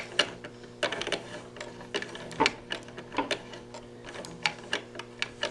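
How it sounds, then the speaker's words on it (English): A sewing machine stitching the inner seam of capri pants, heard as quiet, irregular runs of rapid mechanical ticking with short pauses between bursts, close and alone. "So here we go with stitching the inner seam"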